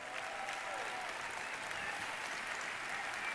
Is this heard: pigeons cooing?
no